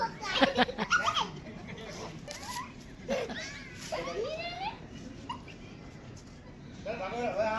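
A mother dog that has fallen sick whimpers and yips alongside her small puppies, in soft, uneven bursts heard close by while people talk over them.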